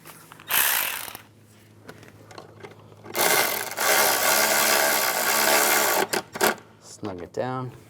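A bracket bolt is tightened on a 2010-2016 Cadillac SRX during an ignition coil job, with bursts of ratchet clicking close up, broken by pauses and a few knocks of tools and parts.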